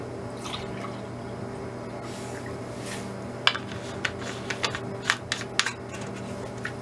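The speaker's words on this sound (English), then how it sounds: "So I'm going to pour a half a cup in my measuring cup." B-Carve leather carving solution is poured into a measuring cup: a soft, faint trickle at first, then a run of distinct drips and small splashes that grow sharper toward the end.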